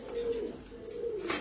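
Pigeons offered for sale coo close by, two soft, rolling, low calls in quick succession against a quiet background.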